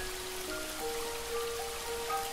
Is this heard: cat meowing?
no